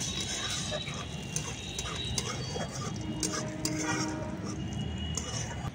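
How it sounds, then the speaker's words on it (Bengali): Whole cumin seeds and four dried red chilies fry in hot oil in a kadai, giving a steady hissing sizzle dotted with small pops and crackles, while a voice talks over it. "এই ফোড়নটাকে ভালো করে ভেজে নেব, জিরে আর শুকনো লঙ্কাটা।"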